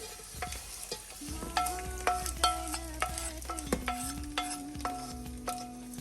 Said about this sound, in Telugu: ఈ తాలింపు నేను తీసుకొని అన్నంలో కలిపేసుకుంటున్నానండి